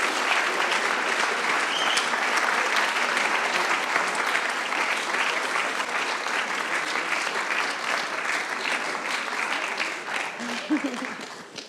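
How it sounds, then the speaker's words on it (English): A large audience at an award ceremony applauds the organizing team, sustained dense clapping filling the hall for over ten seconds and tapering slightly, with faint voices beneath. "Can I give them a big applause?"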